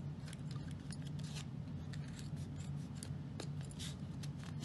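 Scissors snip and scrape through clear face visor plastic, giving a string of quiet, close, crisp cuts and rustles over a low steady hum.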